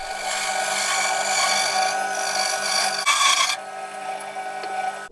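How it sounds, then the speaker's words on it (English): A bandsaw cuts a wooden guitar headstock shape with a close, continuous buzzing whine that sharpens briefly near the end of the cut, then the motor hums on alone. "I'm just going to cheat and use the bandsaw."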